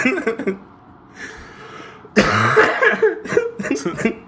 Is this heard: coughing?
yes